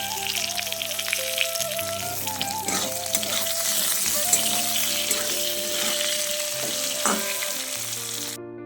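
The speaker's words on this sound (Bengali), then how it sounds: "এবার আমি আলুগুলোকে এর মধ্যে দিয়ে ভেজে নেব" Potatoes fry in hot oil with a steady crackling sizzle and brief stirring scrapes, all beneath a music track.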